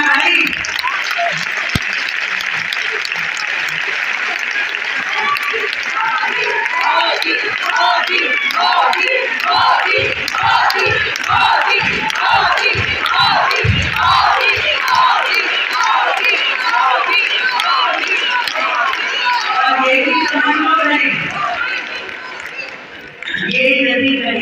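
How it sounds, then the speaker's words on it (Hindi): A large crowd at a BJP political rally for International Women's Day claps and cheers loudly and continuously, with rhythmic rounds of clapping and shouted cheers swelling for over twenty seconds before tapering off. "एक बार जोरदार तालियां हम अपनी संगठन के लिए हमारे नेतृत्व कर रहे आदरणीय"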